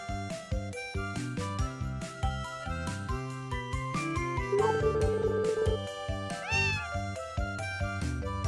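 A cat meows in the farming game Story of Seasons, the short call rising near the end over a bright, bouncy music track with chiming tones that carries on throughout.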